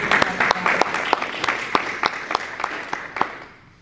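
A church congregation claps in applause, a crisp rhythmic beat of roughly a dozen strong, evenly spaced claps over softer scattered clapping, fading at the end.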